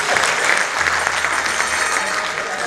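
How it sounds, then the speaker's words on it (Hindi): Audience at a spiritual discourse breaks into loud, dense applause, many hands clapping together close by in a sustained burst. "बजाओ ताली इस बात पे।"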